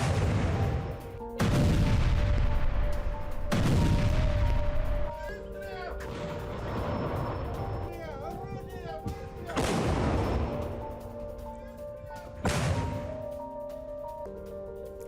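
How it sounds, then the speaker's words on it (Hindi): Heavy howitzer artillery booms repeatedly, several deep blasts a few seconds apart echoing over a rumbling background with faint mechanical whines. "हवित्जर तोप से रूसी सेना ने धावा बोला।"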